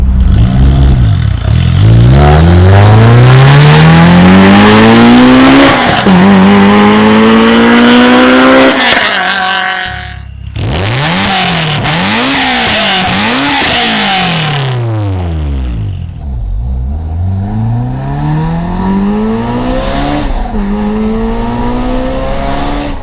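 A supercharged Honda S2000 with Spoon Sports parts and a rear wing drives hard at speed. The loud engine revs climb steeply through repeated gear changes, with brief throttle lifts and renewed aggressive acceleration, very close and without talk.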